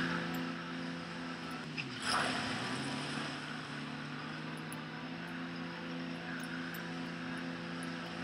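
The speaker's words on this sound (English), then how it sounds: "Helicopter is right up there," Helicopter in the Roblox game SharkBite 2 drones steadily with a constant engine hum throughout, rising briefly in a louder whoosh partway through.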